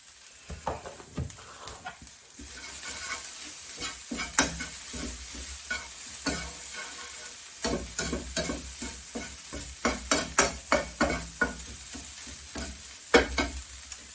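Minced meat browning in a frying pan for wartime mince slices, a steady low sizzle broken by frequent sharp scrapes and clacks of a spoon stirring and turning the meat, close and without talk.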